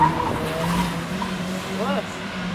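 A Toyota Corolla making noise, with engine sound and brief tire squeal or skidding, heard under Portuguese conversation among people nearby.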